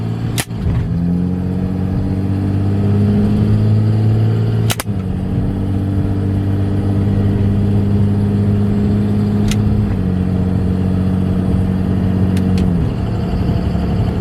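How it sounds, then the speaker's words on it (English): A truck with a 48RE or 4R100 automatic transmission, shifted manually, runs with a loud steady engine drone that holds through each gear, with a sharp shift transient near five seconds and the pitch stepping down after ten seconds, without speech. "Just to be clear, we'll let Lucas go through the shifts here."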